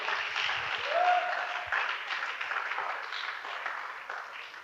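A church congregation bursts into sustained applause and cheering in acclaim of Jesus, a loud, dense wash of clapping that carries steadily throughout and fades slightly toward the end.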